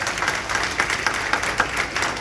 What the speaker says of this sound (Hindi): एक बार बच्चों के लिए जोरदार तालियां बजाएं।